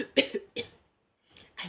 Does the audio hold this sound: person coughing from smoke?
yes